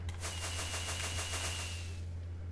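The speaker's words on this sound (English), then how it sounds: "Fireworks." Video game fireworks crackling off in a rapid, regular rattle of sharp pops, faint and fairly distant, ending after about two seconds over a steady low hum.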